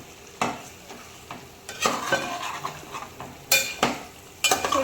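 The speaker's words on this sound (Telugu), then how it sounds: "గోంగూర వేసాం కదా చికెన్లో కలుపుకుందాం" A spoon scrapes and clatters around a sizzling pan of gongura chicken curry in several separate strokes, the food frying underneath between the louder stirs.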